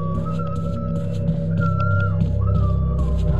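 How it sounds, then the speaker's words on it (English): A melodic whistle in the Resident Evil HD Remake video game rises and falls in a few sustained phrases over a dense, steady game soundscape of low droning ambience. "That's some beautiful whistling right there."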